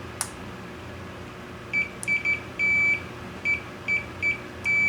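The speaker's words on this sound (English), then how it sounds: "So that beeps" A multimeter's continuity tester beeps while probing a cracked circuit board on a 25-inch U5000 arcade monitor chassis: a series of short and longer high-pitched tones in irregular bursts, fairly clear over low background hum.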